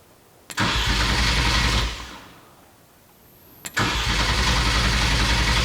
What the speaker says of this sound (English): So we're gonna keep cranking until that light turns off.